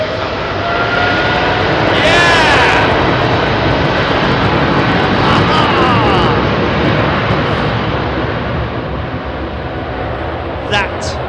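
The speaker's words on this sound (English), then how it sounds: "is a fully loaded 777 with GE90 engines, man." A fully loaded Boeing 777 with GE90 engines departs Heathrow at night, a loud, sustained jet roar with rising whine from the big fan blades spooling up, steady throughout with a voice speaking over it.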